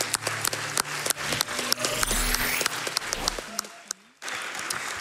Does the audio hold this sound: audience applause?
yes